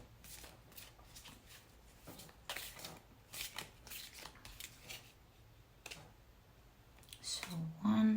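Tarot cards being shuffled by hand, a quiet run of crisp riffling bursts and soft flicks coming in uneven clusters, close up, with a brief voice near the end.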